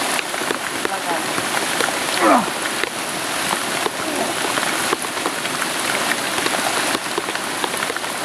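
Steady outdoor rain pours down as a dense, continuous hiss of drops striking surfaces, loud and close throughout with no letup.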